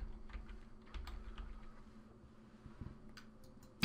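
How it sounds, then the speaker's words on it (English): Computer keyboard typing on a Windows PC, a steady run of light, close clicks of moderate loudness with uneven rhythm, heard alone against a low background hum, ending in a sharper louder tap. "because if you type msconfig,"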